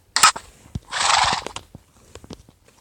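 A horse on a video-game horse farm gives a short whinny and then a longer, louder neigh, followed by scattered hoof clops and thuds.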